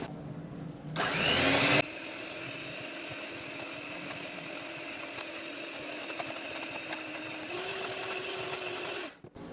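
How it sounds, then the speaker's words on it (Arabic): An electric mixer whips cream for a no-bake cheesecake, starting with a louder burst and then settling into a steady, close motor whine with a slight pitch shift, then cutting off. "نضيف بقى الكريمه كده ونبدا ايه نضربها بالمضرب بتاعنا كده اهو"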